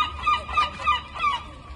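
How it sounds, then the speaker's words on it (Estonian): Gulls in Tallinn, Estonia give a series of raucous, honking calls in spring, several cries rising and falling across the clip at moderate distance over low background rumble. "jaa, meie kajakad."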